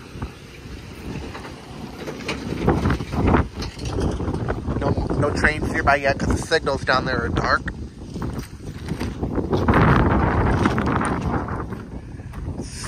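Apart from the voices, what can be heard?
strong wind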